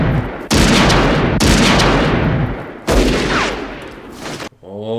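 Loud bursts of gunfire from the 1973 film Magnum Force crash in three broad blasts, each ringing out and decaying before the next, ending abruptly in a brief tonal tail.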